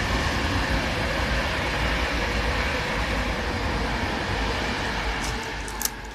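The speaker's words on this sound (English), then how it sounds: "Oh, here comes the train, fantastic." Train passing beside a back garden, a broad continuous rumble and rush of wheels on track holding steady, then tailing off near the end with a faint click.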